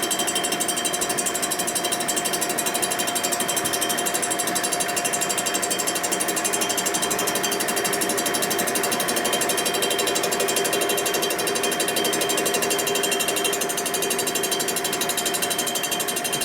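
A milling machine cutting a part for a 1942 Harley-Davidson WLA 45 cubic inch flathead engine, a steady, dense, loud grinding chatter that runs unbroken throughout without talk.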